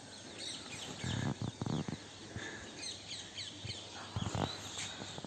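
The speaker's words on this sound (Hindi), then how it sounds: "चिड़िया की बोलने की आवाज़ आती है यहाँ पे, बहुत ज़्यादा सुंदर।" Birds chirping in a tree outside a house in Himachal, a dense mix of small chirps and calls at middle distance over an outdoor background hiss, with a few louder thumps and rustles nearby.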